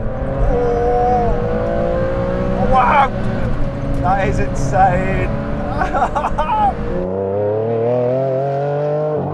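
A Ferrari Enzo V12 supercar pulls hard in third gear from around 50, engine note climbing steadily and loudly through the revs, with excited talk over the top and a brief drop as the throttle eases near the end.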